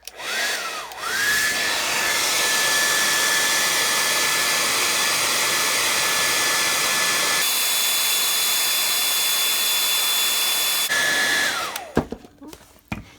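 Heat tool blowing hot air on a high setting, a loud steady whine with a constant whoosh, shifting pitch once partway through, then switching off near the end with a few small handling sounds.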